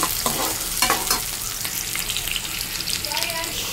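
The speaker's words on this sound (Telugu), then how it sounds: "ఇందులోనే కరివేపాకు కూడా వేసుకొని బాగా వేయించాలి." Curry leaves frying in a pan for chicken curry, a steady close sizzle with bursts of crackling and stirring scrapes, slowly settling toward a softer hiss.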